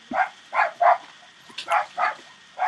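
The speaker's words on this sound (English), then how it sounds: "And my dog's being loud outside." A dog barks outdoors in a steady series of about seven sharp, evenly spaced barks, heard from a moderate distance with no other sounds around them.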